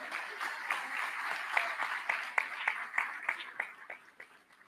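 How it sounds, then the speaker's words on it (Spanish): Conference audience applauding at a social week event, a dense wash of many hands clapping that thins toward the end, with a few sharper individual claps standing out. "Aplausos."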